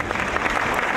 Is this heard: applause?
yes